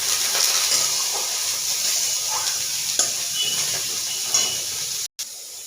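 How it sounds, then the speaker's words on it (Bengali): Eggplant fries in oil in a pan, a steady broad hiss with faint crackles throughout, briefly cut near the end, no talking. "ওই তেলেই আমি বেগুনটা ভেজে নেব"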